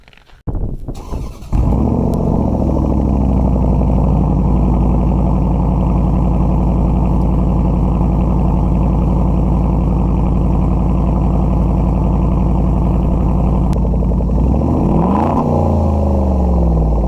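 Land Rover LR4 engine cold-starting in snow: a brief crank catches into a loud, steady high idle that holds close and even, with a small blip near the end and no talk.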